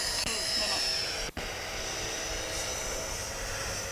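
FMS Futura 64mm electric ducted-fan RC jet flying, a steady faint whine and hiss heard at a distance, with a short brief dropout partway through.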